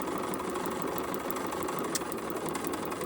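A sewing machine stitches a foundation-paper-pieced quilt block, giving off a steady, moderately quiet mechanical whirr that runs evenly throughout.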